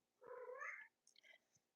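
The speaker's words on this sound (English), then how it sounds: "My cat just said hello." A pet cat lets out one fairly quiet, drawn-out meow close by, followed by a few softer chirping trills.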